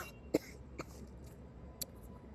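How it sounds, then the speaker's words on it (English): A single sharp cough bursts out close to the microphone, followed by a couple of softer throat-clearing coughs in a quiet room. "I had to cough"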